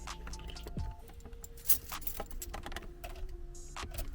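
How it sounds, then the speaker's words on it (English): Metal truck keys jangle and clink in brief bursts amid rustling and handling noises, with a sharp clatter partway through; no one speaks. "that's my truck keys"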